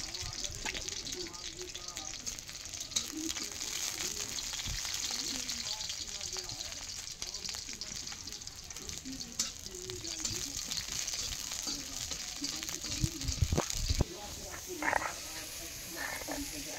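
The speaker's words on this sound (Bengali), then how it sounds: "শাক ভাজা প্রায় কমপ্লিট" Leafy greens frying in a pan, a steady crackling sizzle throughout with occasional stirring scrapes and some faint background voices.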